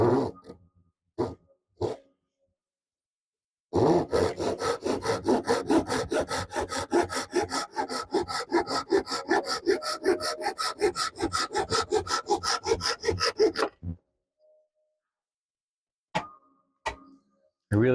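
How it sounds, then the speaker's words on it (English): A Japanese hand saw cuts through a wooden board for a deck box in a workshop, with about ten seconds of steady, rhythmic rasping strokes, close and clear, preceded and followed by a few brief knocks. "I really do love these Japanese saws."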